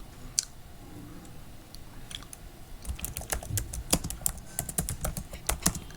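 Computer keyboard typing as code for a recursive function is entered: a few scattered clicks, then a rapid, busy run of close, crisp keystrokes over a low background hum.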